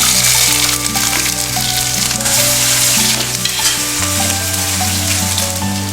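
Chopped onion and whole garlic cloves fry hard in mustard oil for a Bengali soyabean curry, a loud continuous close sizzle with stirring scrapes throughout.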